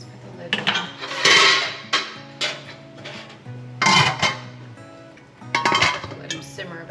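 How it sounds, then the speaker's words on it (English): A metal lid is set onto a pot of simmering wild grape juice in a ranch kitchen, with several close clinks and clatters of metal and glassware spread unevenly over a few seconds, no talk. "let's put the lid on"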